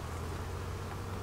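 Honey bees buzzing during a small-hive inspection, a dense, steady hum of many insects close by, continuous and unbroken with no talking.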